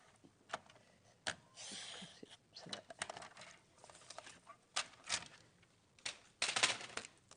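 Scissors snipping through craft card, giving a string of short, crisp cuts and rustles in uneven bursts, fairly close and clear, with no talking.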